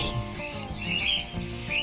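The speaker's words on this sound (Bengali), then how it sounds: "দেখতে পাচ্ছেন বাচ্চাগুলো খাবারের জন্য কীরকম হা করে আওয়াজ করছে" Cockatiel chicks give soft, rapid begging chirps and raspy squeaks up close, a brief burst of hungry calls for food.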